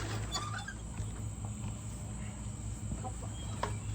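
Chickens clucking in a steady murmur over a constant low hum, with a few sharper calls standing out now and then.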